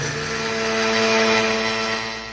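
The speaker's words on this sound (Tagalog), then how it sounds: "Ito lang pong blender ang gagamitin ko pag giling ito." An electric blender grinds dried ginger into powder in a home kitchen, giving a steady, loud whirring drone with a slight swell in the middle and no talking.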